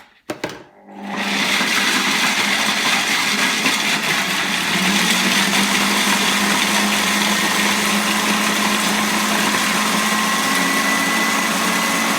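A kitchen food processor chopping walnuts, starting with a few short pulses and then running as a loud, steady whirring hum with rattling pieces inside the bowl, alone with no voices.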